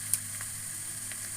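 A grilled pork chop sizzles steadily over smoking heat, a soft continuous hiss with a sharp pop near the start, and no voices.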